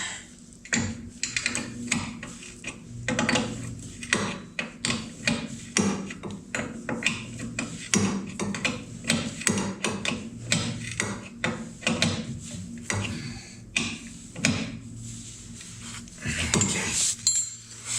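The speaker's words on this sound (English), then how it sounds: "Need the torque wrench on this one." A torque wrench tightens the left front spindle on a 1960s VW Beetle during a king and link pin rebuild. Close, repeated ratcheting clicks and metallic clanks run in an uneven rhythm throughout, with no talk.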